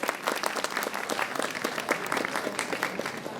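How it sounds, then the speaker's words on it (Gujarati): Audience at a keynote event breaking into sustained, dense clapping, loud and close, with no speech over it. "રિંકેશ શાહ માટે એકવાર જોરદાર તાળીઓ અગેન."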